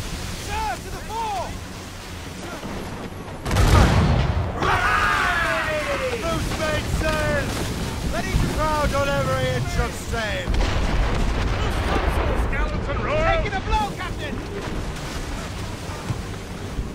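Ship cannons fire in the naval game Assassin's Creed Rogue, one heavy boom followed by continuous rumbling battle noise with waves, shouting crew and voices throughout.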